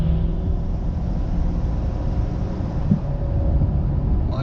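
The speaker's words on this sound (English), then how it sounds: "Transmission, that was a smooth downshift." A Ford F-250 Powerstroke diesel pickup pulls at about half throttle near 45 mph, a steady low rumbling drone throughout with a brief shift blip partway through, heard close from inside the cab.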